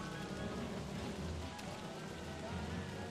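Frog rain in the video game Don't Starve Together, a dense, continuous downpour hiss with scattered drop patter, steady and fairly loud throughout.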